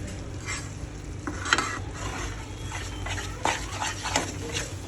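A ladle stirs sukhdi mixture with cashews, almonds and grated coconut in ghee, giving soft scraping and gentle sizzle with a few sharper clinks against the pan, steady and close throughout.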